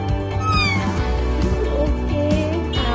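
A voice imitates a cat's meow, several drawn-out mewing calls over background music during a children's learning game at home.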